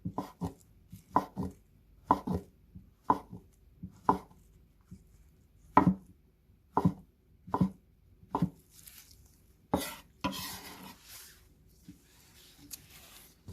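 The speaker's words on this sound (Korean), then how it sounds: "표고버섯을 이런 식으로 약간 살짝 눕혀서 이렇게 썰겠습니다." A knife slices a shiitake mushroom on a cutting board in about a dozen crisp, evenly spaced chops, close and distinct against near silence, with a few faint rustling handling noises near the end.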